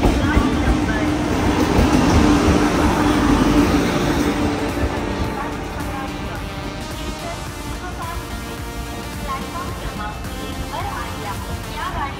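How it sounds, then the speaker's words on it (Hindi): Tejas Express executive-class train travelling from Goa to Mumbai, a steady low rumble of wheels and carriage running continuously throughout, louder at first then settling, with voices talking over it. "हम लोग अभी है तेजस एक्सप्रेस में"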